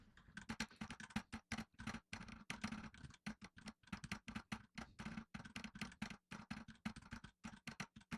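Rapid keystrokes clatter on a computer keyboard during a learn-to-type scribe exercise, close and crisp, in a fast irregular stream of clicks with brief pauses and no talk.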